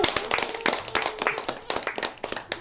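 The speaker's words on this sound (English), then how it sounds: "So, round of applause, everyone." A small group claps together after a toy design brainstorm session, lively uneven hand claps with distinct sharp hits, close and fairly loud, with faint voices underneath.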